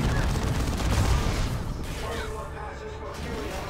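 Dense, continuous barrage of booming explosions and rattling gunfire in Warhammer 40,000: Dawn of War II, loud and rumbling throughout with no pause.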